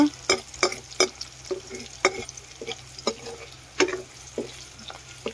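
Onions sizzle in a hot pan, with repeated sharp clinks of a spoon stirring them at an irregular rhythm, close up and fairly quiet.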